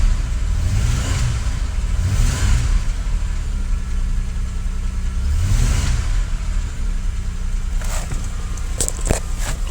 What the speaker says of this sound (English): Engine doesn't sound bad. It's misfiring like a mother trucker.